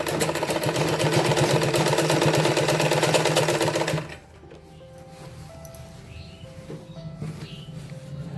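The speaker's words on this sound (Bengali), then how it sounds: "এভাবে আমি পুরোটা চাপ সেলাই দিয়ে দেব" A sewing machine stitches a salwar, running loud and steady with a rapid needle rhythm for about four seconds, then stopping abruptly and leaving only a faint room hum.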